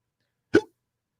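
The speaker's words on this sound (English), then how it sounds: "I got the hiccups." One short, close hiccup, a sudden voiced gulp cut off abruptly in an otherwise silent moment.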